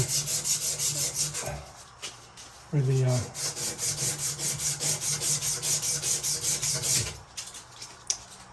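An old copper pipe is rubbed with an abrasive to smooth it for a push-to-connect brass fitting, a close rhythmic rasping scrub in quick strokes that pauses briefly a couple of times.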